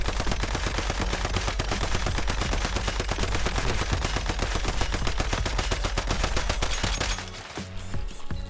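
Rapid sustained automatic fire from the SOCR gun in the video game Once Human, loud and close, a dense steady stream of shots that thins out near the end.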